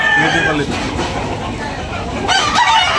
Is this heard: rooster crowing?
yes